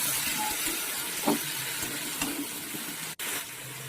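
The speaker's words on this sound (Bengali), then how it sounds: "এদিকে চালগুলো ফুটছে।" Rice for vegetable khichdi boils in a pot, giving a steady, close bubbling hiss with faint soft pops, broken once by a brief dropout near the end.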